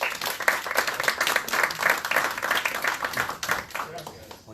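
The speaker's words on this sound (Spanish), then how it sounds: "Lo recibimos con un fuerte aplauso," A meeting audience at a political coaching workshop gives a congressman a warm welcome, with dense continuous clapping that is loud and close, swelling and fading steadily for several seconds.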